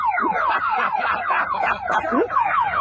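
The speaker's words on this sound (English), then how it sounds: "Hammond's cheap aftermarket alarm matched his cheap aftermarket wheels." A cheap aftermarket car alarm goes off on a budget convertible, blaring loud and close with rapid swooping whoops that cycle continuously, with no talking over it.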